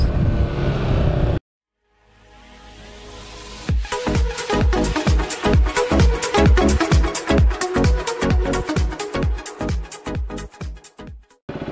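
A KTM RC390 motorcycle ridden on the road, its single-cylinder engine revving through rapid, rhythmic bursts that rise and drop as gears change, loud and close after a brief cut to silence.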